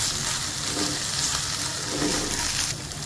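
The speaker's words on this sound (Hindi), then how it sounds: "इस मोमेंट पर हम इसमें जिंजर गार्लिक का पेस्ट ऐड करते हैं और उसे 1 मिनट के लिए चलाते हैं" Ginger garlic paste sizzles and fries with onions in a pan for a kundru (tindli) curry, a steady close hiss of hot oil broken by soft scraping from stirring, with no talk.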